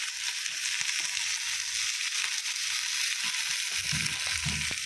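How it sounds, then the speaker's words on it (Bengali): Potatoes fry with onion and tomato in a pan for a fish curry, giving a faint, even hiss of oil with soft stirring bumps toward the end. "তো মাছের ঝালটা বসিয়েছি বন্ধুরা। এতে কিছু দিইনি, শুধু পেঁয়াজ আর টমেটো দিয়ে ভেজে নিলাম আলুটা।"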